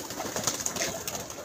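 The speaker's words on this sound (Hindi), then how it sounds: "ये देखें जोड़ा 35 वाला बनाया फड़क के कबूतरों में" Pigeons cooing in a loft of breeding pairs, a soft, continuous murmur of low coos with fluttery chatter, moderately close and steady throughout.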